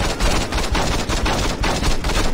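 Pistol gunfire in the video game Saints Row 2, with rapid repeated shots in a loud, dense burst that continues through the whole stretch, with no speech over it.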